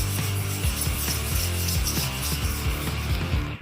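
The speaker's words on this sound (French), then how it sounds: "Voyons simplement si on peut le poncer à l'eau pour essayer de le casser un peu." Wet sandpaper rubs back and forth over the oxidized roof paint of a Cadillac Escalade in rhythmic, close, loud strokes, heard alone without talk.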